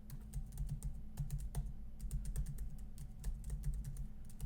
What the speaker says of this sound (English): I actually enjoy the keys in the old MacBook Air, to tell you the truth.